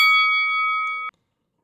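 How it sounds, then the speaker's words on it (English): A single bell is struck once, ringing loud and bright, then decaying steadily for about a second before cutting off abruptly into silence. "we'll hit that bell."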